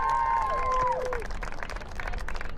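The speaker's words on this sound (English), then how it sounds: "A big round of applause for senior Ethel Lopez." Crowd applauding and cheering for a senior player at a women's college soccer match, Lindenwood University Belleville versus William Woods, steady clapping with whistles and shouts, a tonal whistle-like call at the start fading into continuous applause.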